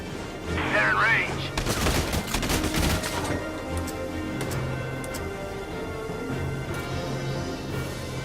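Gunfire from a Valkyria Chronicles 4 battle: loud bursts of shots in the first three seconds, then quieter scattered firing over a steady background hum, with voices talking in between.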